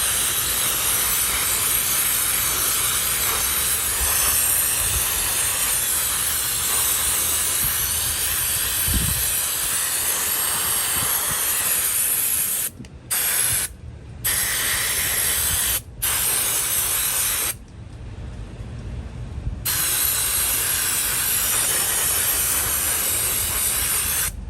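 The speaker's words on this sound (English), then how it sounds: "I'm gonna spray some cleaner in this thing." A loud continuous aerosol cleaner spray hisses into a GE Model TH-20 electric drill for over twenty seconds, broken by a few short pauses near the end before spraying resumes.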